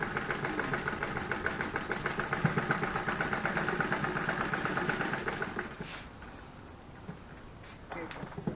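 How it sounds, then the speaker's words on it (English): A sewing machine stitches a quarter-inch seam on a junk-journal tag in a rapid, even mechanical patter up close, then stops and leaves quieter handling sounds. "I'm going to sew this part down."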